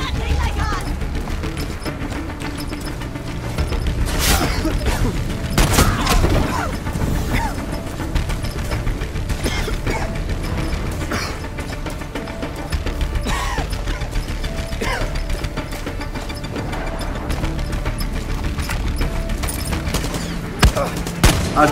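Machine gun fire in the video game Far Cry 6, dense rattling bursts and impacts running nearly nonstop with crashes and other game effects layered in, loud and close.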